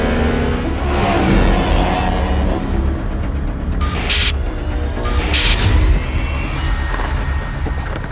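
A Ducati Panigale V4 S superbike engine roars loudly and close, rising and falling in steady revs with a few brief higher-pitched whines, heard alone without voices.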